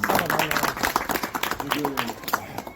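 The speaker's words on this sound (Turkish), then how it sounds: "Alkışlanacak diyorum" Applause at a Demokrat Parti Buca district office opening speech, close, uneven clapping from a small gathering with voices talking over it.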